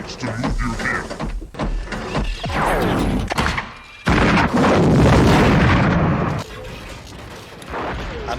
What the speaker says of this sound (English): I'm losing count of the number of explosions in the film.